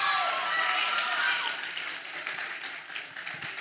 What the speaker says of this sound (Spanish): Fuerte aplauso, tremendo